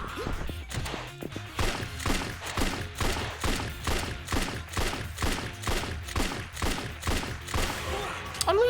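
Gunshots ring out in rapid, regular bursts during a fight in the Yakuza 3 video game. The sharp cracks repeat steadily over about eight seconds, loud and close, with game sounds underneath.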